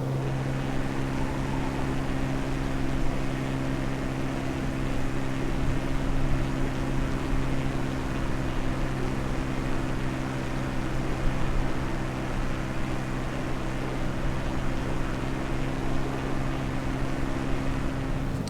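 Steady propeller airplane engine drone from a small, quick plane in Microsoft Flight Simulator 2020, flying near London, holding a continuous loud hum with strong low tonal lines and no talk, straining throughout.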